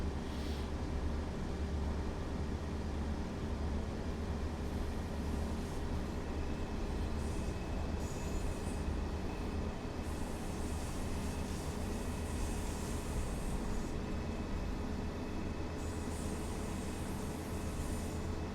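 Steady diesel rumble of a Pacer railcar running on the West Cornwall local line in Train Sim World 4, a continuous droning engine and rolling rail noise with faint hum, no talking.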